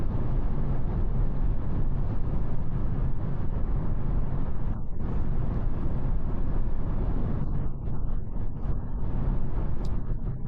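Continuous rushing wind noise from a 2026 Toyota Aygo X moving at 130 km/h, loud and steady throughout, with a slight dip midway.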